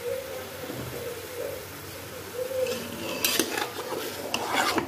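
Spices being stirred and roasted in a metal pan while cooking Arabic mandi, with scraping and clinking strokes against the pan over a low background hum, growing busier and louder toward the end.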